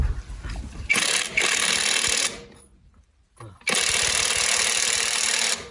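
A cheap impact wrench on a van's wheel nut, two loud, close bursts of rattling whir, the first about a second and a half long and the second longer, separated by a brief quiet pause.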